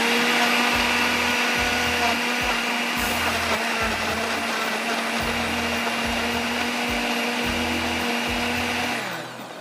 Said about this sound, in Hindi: मैं इसको पीस के रख लेती हूँ